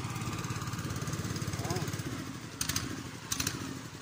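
A motor boat engine chugs steadily at Lumbini, Nepal, a rhythmic low putter that stays loud throughout as the boat approaches, with brief bursts of other noise near the end and no talk.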